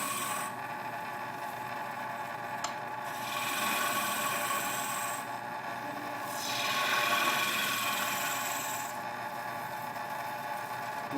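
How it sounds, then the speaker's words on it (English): Sandpaper rubbing against the turning wooden stem of a goblet on a lathe, a continuous rasping hiss that swells and fades in long strokes over the steady hum of the machine. "Now's the time to start sanding on the stem, on that stem out there."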